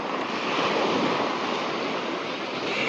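Ocean surf washes steadily onto a beach in Oman at dusk, a continuous broad roar of breaking waves with wind across the microphone, close and fairly loud with no voices.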